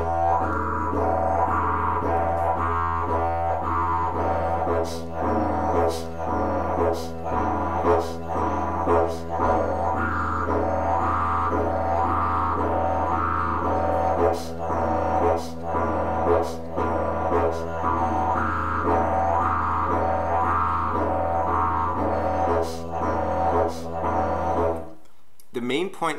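A didgeridoo drones continuously in a steady two-count pulse, alternating two slightly different accented beats over a low fundamental, close and loud, stopping abruptly at the very end.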